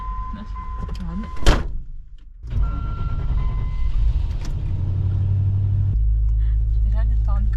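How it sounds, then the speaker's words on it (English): A car's engine starts and settles into a loud, deep, tractor-like rumble after a door thuds shut, idling steadily and close by. "5 hours to drive this car. It sounds like a tractor."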